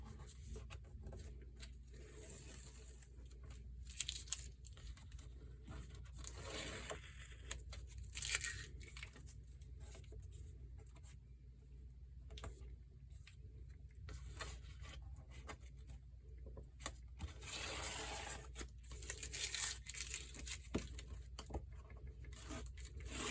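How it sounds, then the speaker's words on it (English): Masking tape peeled away from a watercolor sketchbook painting of a whimsical bird and birdhouse, giving soft intermittent tearing and crinkling rips with quiet pauses between strips, close and fairly faint over a low steady hum. "we're going to go ahead and take the tape off for the big reveal"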